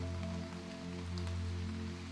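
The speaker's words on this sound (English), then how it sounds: "Raindrops glided down the metal like silver ribbons" Steady rain falls continuously on a surface for a rainy bedtime story, a soft even patter with a low sustained musical hum beneath it and no voices.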